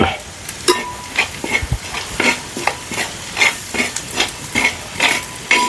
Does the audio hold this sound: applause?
no